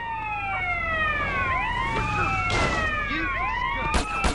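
Police car sirens wailing in GTA San Andreas, several overlapping rising and falling sweeps over engine rumble, loud and close, with a few sharp bangs near the end.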